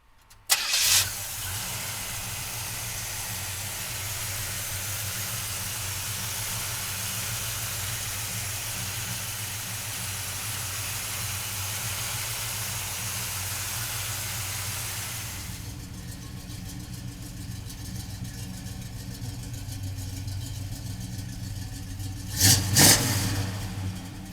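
A 1969 Chevrolet Chevelle cranks and fires up, then settles into a steady idle rumble with a brief revving burst near the end, heard alone and fairly close.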